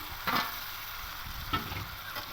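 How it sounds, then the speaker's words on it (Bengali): Fried potato pieces drop into a simmering home-style chicken curry, a steady close sizzle with a few sharp bursts of clatter as they land and get stirred, no voices. "এবার আলু ভাজাগুলো মানে কেটে রাখা আলুগুলো দিয়ে দেবো"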